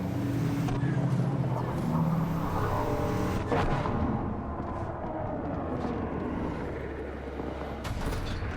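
Racing car engine in a video game, a steady loud motor drone with revving throughout, slightly lower in the second half, with no speech over it.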